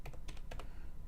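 A computer keyboard is typed on in short quick bursts of clicking keystrokes, close and fairly quiet, with no talk over them.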